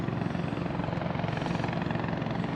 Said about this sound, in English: Low flying NYPD helicopter. They're hovering.